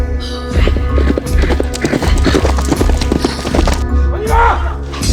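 Rapid hoofbeats clatter as a horse gallops, with a whinny near the end and voices shouting over the commotion.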